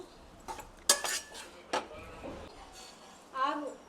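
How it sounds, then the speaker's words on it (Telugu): A spoon clinks and scrapes against a pan while coconut laddu mixture with milk is stirred, a few sharp metallic knocks spaced apart with a faint clatter near the end. "ఉన్న పాలు కూడా పోసేసి మంచిగా కలుపుదాం."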